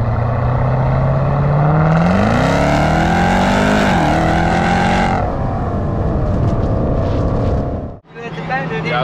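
An 850 hp Jeep Trackhawk engine revs loud and close, holding a steady drone before climbing through several rising pulls, then cutting off sharply near the end.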